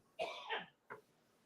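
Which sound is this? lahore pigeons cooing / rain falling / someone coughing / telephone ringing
someone coughing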